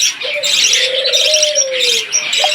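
Australian doves in cages giving soft cooing calls at close range, surrounded by a busy background of chirping from other caged birds.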